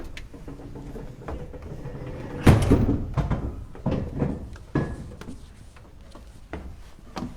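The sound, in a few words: fire-safe door in Turku Cathedral opening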